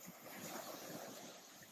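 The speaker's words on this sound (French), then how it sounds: "Et puis le bruit des vagues," Ocean waves washing onto the shore at Quiberon, a steady broadband surf wash with wind noise on the microphone, soft and continuous with no talking.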